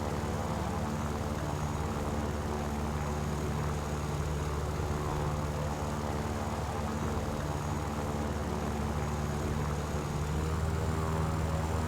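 Propeller drone of a Yak-9T fighter's aircraft engine in flight in the War Thunder video game, a steady, loud, continuous hum with layered engine harmonics held evenly throughout and no talking.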